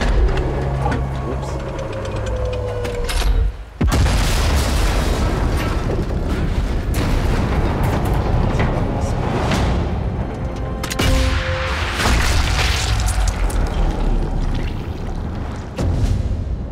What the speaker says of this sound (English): The gun will blow when it's fired.